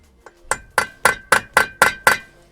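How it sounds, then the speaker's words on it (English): A hammer strikes a center punch to tap a drive shaft out of a Mini engine: seven sharp metallic ringing blows, evenly spaced and close, after a faint first tap. "if you're going to tap a drive shaft out and you've got a dimple like that,"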